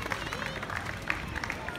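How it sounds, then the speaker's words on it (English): Audience applause after a fire and rescue road traffic collision demonstration, a steady spread of clapping from a crowd with faint murmuring, moderately distant. "So give a big round of applause."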